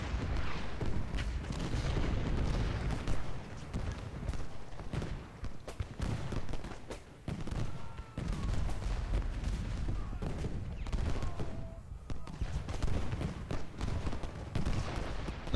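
Artillery fire in Ultimate General: Gettysburg rumbles as a continuous barrage of booms and overlapping cannon blasts, dense and loud for the whole stretch, with only a brief lull midway and no talking.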